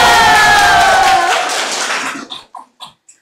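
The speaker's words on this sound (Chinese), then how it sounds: "我们掌声有请。" Dense applause from a studio audience welcoming a guest onto a Hong Kong brand livestream, loud and steady with a faint musical tone beneath, then thinning to a few scattered final claps.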